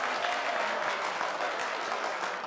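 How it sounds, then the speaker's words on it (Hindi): Audience applause fills a casino in a Hindi comedy film scene, a steady dense wash of clapping throughout, moderately distant and without talk. "तालियां पड़ती हैं।"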